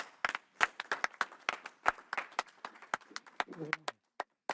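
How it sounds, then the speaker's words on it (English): An audience at a health and mindset seminar greets a presenter with scattered, sharp hand claps. They start brisk and irregular, then thin out into a few isolated claps before fading to quiet. "give him a loud round of applause"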